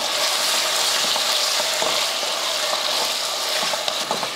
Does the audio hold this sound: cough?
no